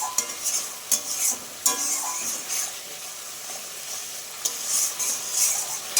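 Bhola fish curry with salt and turmeric is stirred in a hot pan, loud bright sizzling that swells and dips with repeated scraping strokes of the spoon.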